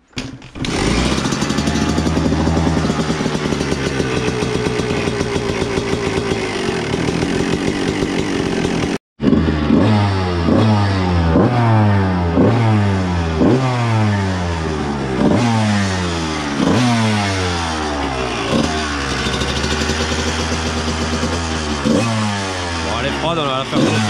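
A Honda 125 CR two-stroke motorcycle with a steel frame, warmed up in a parking lot, runs loud and close, holding a high drone before snapping through a long series of sharp, rhythmic throttle blips and revs.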